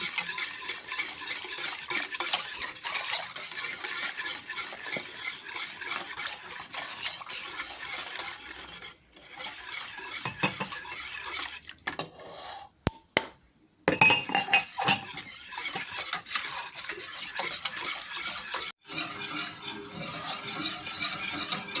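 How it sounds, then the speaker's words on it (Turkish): Grape pudding mixture with sugar and gluten-free flour stirred constantly in a pot, a continuous close scraping swish with occasional clinks of the spoon against the pot and brief pauses. "hiç bırakmadan karıştırıyoruz topaklanmaması için"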